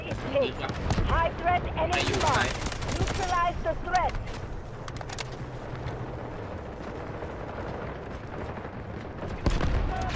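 Rapid automatic rifle fire from a K416 in the video game Delta Force, with bursts and fusillades over a constant battlefield din of explosions and rumble, while a player talks over the action.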